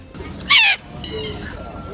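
A bird in a walk-in aviary gives one short, loud, harsh squawk, set against quiet background chatter and ambient noise.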